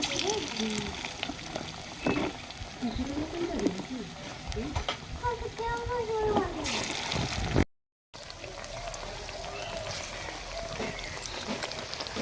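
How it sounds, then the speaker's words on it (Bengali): Radish pakoras sizzle in hot oil with a steady, close crackling hiss that runs nearly throughout, under someone talking, with one brief silent gap. "তেল গরম হয়ে গেছে, এবার এক এক করে পকোড়াগুলো ছেড়ে দেবো"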